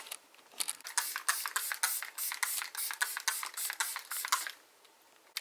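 Setting spray hisses onto a face in a quick series of close, crisp pump bursts, about a dozen short sprays in a steady rhythm, with no talking.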